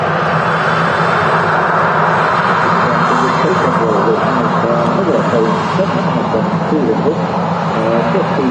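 Boeing 757 jet engines roaring at takeoff at Manchester Airport, a loud, steady, broadband rumble that holds throughout, close and powerful.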